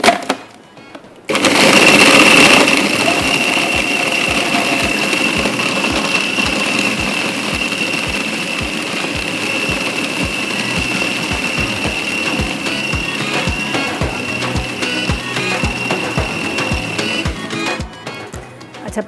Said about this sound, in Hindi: तो पहले थोड़ा सा चॉपर को चला लीजिएगा, थोड़ा सा बारीक हो जाएगा